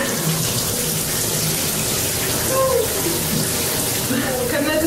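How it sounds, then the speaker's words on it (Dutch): Shower water runs in a steady, dense hiss with no breaks, close and constant throughout, while someone talks faintly underneath. "Ik ga nu meteen douchen, mijn haar uitspoelen."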